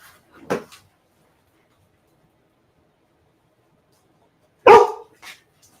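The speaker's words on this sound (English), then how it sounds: "Stop barking at Elphaba." A dog barks twice, well apart, sharp and fairly close, with near silence between the barks.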